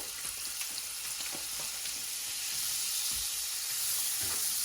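Butter melts in a pan over medium heat for lemon butter shrimp, giving a steady bright sizzle and crackle that swells slightly toward the end, close up with no talking.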